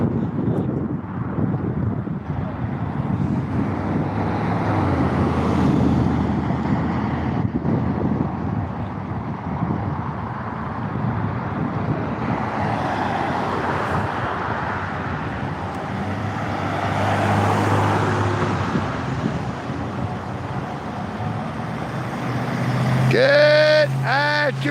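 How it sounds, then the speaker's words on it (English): Road traffic on the west side of Dalton, Georgia: a steady wash of passing cars and engine rumble with strong wind noise on the microphone, swelling and fading as vehicles go by. "Look at all that traffic over here on the west side of Dalton"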